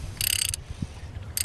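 Ratchet tightening a spark plug fitted with a locking washer gives two short bursts of rapid clicking, with a quiet gap between them.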